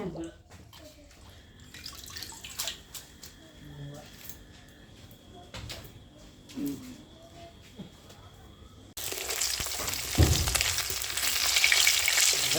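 Pumpkin flower fritters frying in a home kitchen, a steady soft sizzle that turns louder and brighter partway through as more batter hits the oil, with faint background talk.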